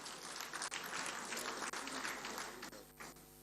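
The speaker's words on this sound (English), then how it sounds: "Another round of applause for him." Audience at a public lecture honouring General Yakubu Gowon at 90 gives a sustained round of applause for the chairperson of the planning committee, dense and steady before tapering off near the end.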